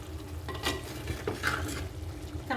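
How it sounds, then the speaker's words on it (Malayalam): Stirring a pot of boiling Kerala-style breadfruit curry, with soft scraping and clinking of a spoon against the pot over a steady bubbling simmer, several strokes close by and moderately quiet. "ഇളക്കി നോക്കാം"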